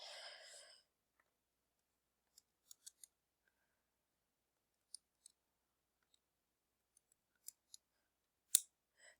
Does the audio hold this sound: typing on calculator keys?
yes